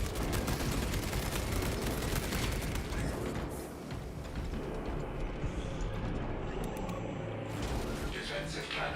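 Defensive cannons fire in the video game Space Marine 2, a dense, continuous barrage of booming shots and gunfire that stays loud throughout, with a voice over it near the end.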